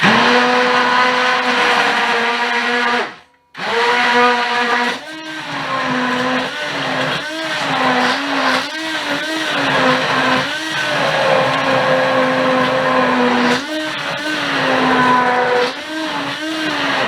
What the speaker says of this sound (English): So we're going to hit it with a stick blender.